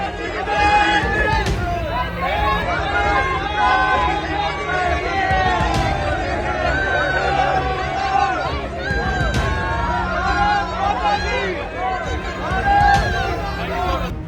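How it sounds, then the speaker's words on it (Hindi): Large crowd outside an airport chanting slogans to welcome Prime Minister Modi, a steady, dense roar of many voices in rhythmic bursts throughout, near and loud. "एयरपोर्ट से बाहर निकलते ही भारी भीड़ उनका इंतजार कर रही होती है, जो मोदी के पहुँचते ही नारे लगाने लगती है"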